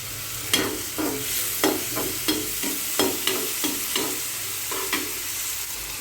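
Tomato frying in a pan for vegetable Maggi, a steady sizzle broken by a regular series of spoon scrapes and taps as it is stirred, with no talking.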